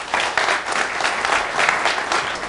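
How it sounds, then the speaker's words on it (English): An audience at a business breakfast event applauds a panel of speakers, steady loud clapping from many hands filling the whole moment without pause. "So a quick round of applause to our 3"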